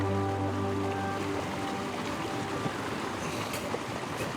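Rushing water from a mountain stream on a high snowy trek, a steady broadband wash heard close by with no voices.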